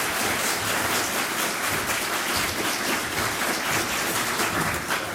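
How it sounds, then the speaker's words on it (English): Steady applause from a seated audience at an architecture design talk in Knoxville, dense and even with no voices, holding at a constant level throughout. "I'd like everybody to give Marc a big round of applause."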